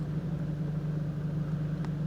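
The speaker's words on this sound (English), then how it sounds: "Oh, here comes a car." Car engine rumbling steadily on a lakeside road beside Lake Erie during a wind storm, a constant mid-range drone at moderate level with no clear rise or fade and no talking.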